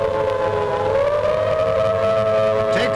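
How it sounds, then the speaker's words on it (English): Civil defence air raid sirens wail steadily across Haifa, Israel, during an air raid practice, a loud sustained tone that slowly rises in pitch, heard alone without voices. "Normal everyday life in Israel's second biggest city, Haifa, was interrupted when sirens sounded the alert."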